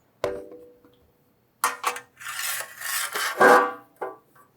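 A 9/16 wrench and 9/16 socket turning a dimple die on a vehicle panel: short, harsh grinding and rasping bursts separated by brief silences, close and fairly loud.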